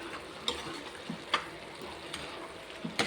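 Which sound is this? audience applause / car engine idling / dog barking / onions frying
onions frying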